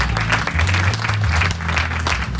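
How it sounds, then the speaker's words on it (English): A church congregation claps hands together in steady, loud applause, with a low sustained hum or music underneath throughout. "Can we clap hands?"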